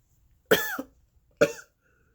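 Two dry-throat coughs a second apart, the first longer with a rough tail, the second shorter; close by with quiet between them.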